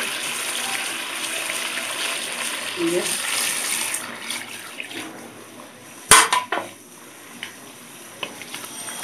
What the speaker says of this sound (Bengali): আমি এখানে এখন পরিমাণ মতো পানি অ্যাড করে দিব